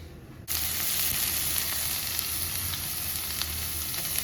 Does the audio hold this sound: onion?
yes